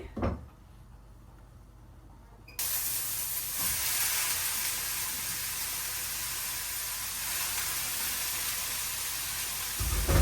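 Potatoes fry in hot oil, a loud, steady sizzling hiss that starts abruptly after a brief quiet moment and carries on evenly to the end.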